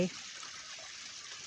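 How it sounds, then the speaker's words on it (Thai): A mountain stream below a lake in a valley in Alsace, France flows in a steady, soft hissing rush, constant and fairly quiet throughout, with a brief murmur at the very start. "ฟังเสียงน้ำไหล"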